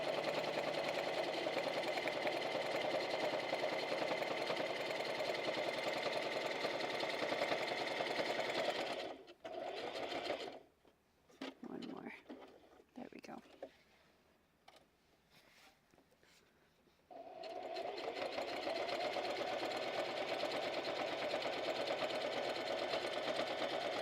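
A sewing machine stitches in a steady, fast whir close by, pauses for several seconds with scattered handling clicks and a short backstitch burst, then resumes its continuous stitching.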